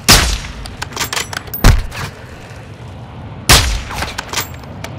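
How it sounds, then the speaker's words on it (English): Loud gunfire bursts in the Call of Duty video game, three sharp broadband blasts at start, near the two-second mark and late, with scattered smaller shots and crackle between. "You are taking effective fire."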